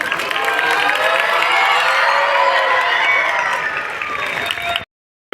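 Children in a crowd applauding and cheering at a school's annual function, a dense, steady wash of clapping and shouts that holds loud for about five seconds, then cuts off abruptly.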